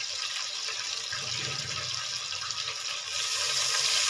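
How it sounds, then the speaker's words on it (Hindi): Water splashed onto onions frying in a pan for karahi gives a steady, loud hiss and sizzle with bubbling, flaring louder near the end. "हल्के हल्के पानी के भी छींटे लगा लें ताकि प्याज जो है ना वो काला ना हो।"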